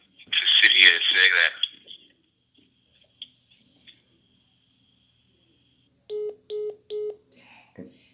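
A phone repeatedly receiving calls, with three short evenly spaced electronic tones in a row after a burst of sharp electronic chirping and a few faint clicks.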